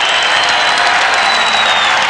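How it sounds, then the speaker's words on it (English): Continuous crowd applause and cheering fill a stadium as the Socceroos leave the Sydney Sports Ground after the Australia v New Zealand match, a dense, steady roar of clapping with no breaks. "that's the applause for the Socceroos as they leave the Sydney Sports Ground"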